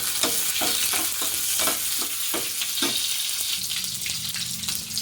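Green chillies and a bay leaf sizzle in hot oil, a constant close frying hiss broken by regular stirring scrapes from a spoon against the pan.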